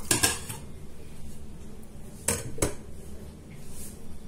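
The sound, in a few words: meat placed into a pressure cooker pot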